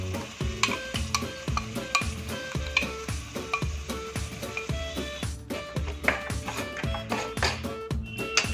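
Spoon stirring a spice paste into onions that have been fried well in a pan for a sabji, with a rhythmic scraping stir repeating about twice a second over steady sizzling, close and fairly loud, no talk.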